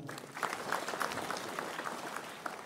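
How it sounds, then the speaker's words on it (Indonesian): Applause fills the hall at a gubernatorial inauguration ceremony in Aceh, a steady moderate clapping from a seated audience that holds evenly throughout. "Tepuk tangan untuk beliau."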